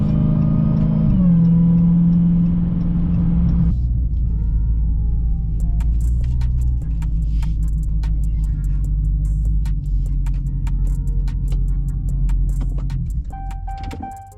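An Audi RS5 and a Dodge Charger 392 Scat Pack race side by side, a loud sustained engine roar that shifts pitch partway through and then settles into a steady rumble before easing off at the end.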